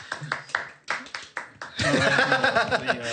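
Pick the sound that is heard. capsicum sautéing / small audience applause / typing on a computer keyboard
small audience applause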